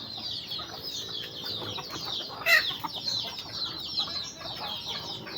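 Chickens cluck and chatter softly in the background, with a sharper squawk partway through, over quiet outdoor ambience.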